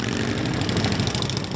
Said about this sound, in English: the roar of motorcycles.